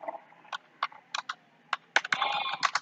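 Someone types on a computer keyboard while entering a ledger name in Tally ERP9, with irregular close key taps that quicken into a rapid burst near the end.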